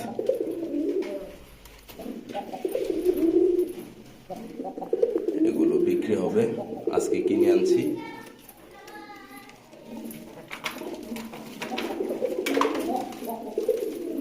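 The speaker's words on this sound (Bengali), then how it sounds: "এই যে মাশাআল্লাহ দিলে দেশি এবং প্রিন্স কবুতর আছে" Deshi and prince pigeons coo repeatedly in low, rolling bursts close by, with someone talking over them and a voice now and then.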